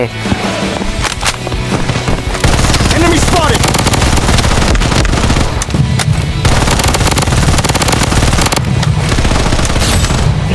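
Rapid automatic gunfire from the video game Blood Strike, dense bursts of loud shots running almost without pause, with a brief lull before resuming and continuing to the end.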